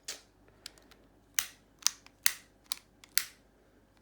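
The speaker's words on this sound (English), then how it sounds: "The clicker thing clicked." A presentation clicker gives about eight sharp, crisp clicks at irregular intervals, close and distinct against a quiet background with no talking.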